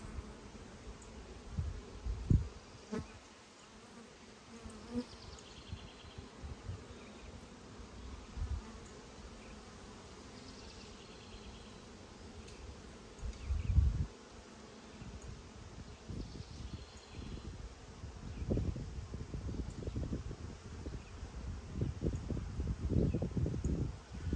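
Honey bees hum around an open hive outdoors, a soft, constant buzzing with individual bees passing close, mixed with rustling and handling noises that grow busier toward the end, no talking.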